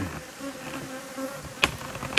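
Honeybees buzz steadily around a beehive kept by an amateur beekeeper, a continuous close drone with a couple of sharper knocks near the end.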